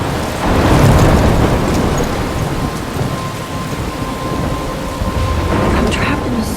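A heavy thunderstorm in the video game Life Is Strange, with steady loud rain and a deep rolling rumble of thunder throughout, no voices.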